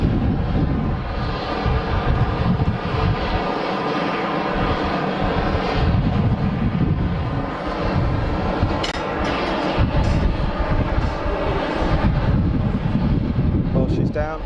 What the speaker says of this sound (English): she's down and she's slowing down. Reverser buckets are out